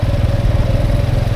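A Kuba TK03 motorcycle engine fitted with a new Japanese carburetor runs close by in a steady, throbbing idle with a low, even pulse and no voices.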